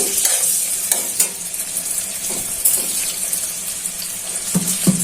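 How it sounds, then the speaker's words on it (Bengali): Shrimp and onion hiss loudly in hot oil, a steady close sizzle broken by occasional scrapes and clinks of stirring, with no talking. "তেলটা গরম হয়ে গেছে, চিংড়ি মাছগুলো দিয়ে দিচ্ছি, সাথে দিয়ে দিচ্ছি পেঁয়াজ।"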